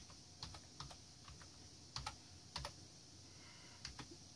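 Someone types a sudo command on a computer keyboard during Raspbian setup on a Banana Pro, with light, close key clicks in small irregular bursts and short pauses over a quiet room hum.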